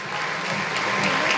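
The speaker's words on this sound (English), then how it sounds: "How about a round of applause for Jacqueline?" Studio audience applause for a guest on a talk show, an even, continuous wash of clapping heard on its own without speech.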